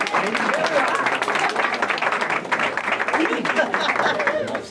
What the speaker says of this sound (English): let's give a round of applause to our new senator